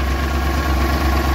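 A motorcycle in for servicing, with a fault that keeps it from accelerating, idles in a steady, even drone, close by and without talk.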